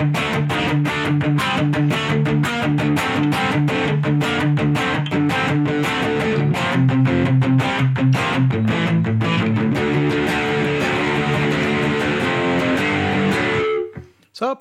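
Electric guitar played through an amp with chorus, reverb and delay switched off, a loud, dry run of strummed chords and picked notes that cuts off abruptly at the end.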